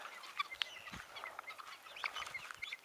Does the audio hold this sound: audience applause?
no